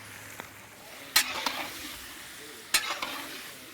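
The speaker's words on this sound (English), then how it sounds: "Now I'm gonna start putting the meat in." Pork and chicken sizzle in hot oil in an old antique pot at an outdoor cooking setup for pastalaya, with a steady frying hiss and two sharp scraping stirs; no one speaks.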